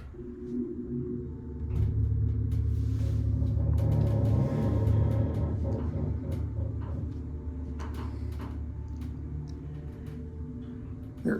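A 1980s Dover Oildraulic hydraulic elevator runs between floors. A low, steady pump rumble and hum swells in the middle, with faint ticks and clunks from the cab and door operator, and no one talks.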